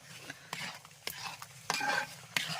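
A spatula stirring a thick pumpkin sweet mixture in a pan, close up, with repeated scraping strokes and soft sticky knocks in an uneven rhythm, no talking.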